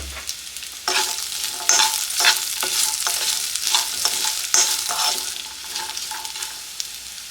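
Chopped coconut frying in a pan for a puffed-rice chivda snack, with a steady close sizzle and repeated scraping stirs of a spoon, no talking.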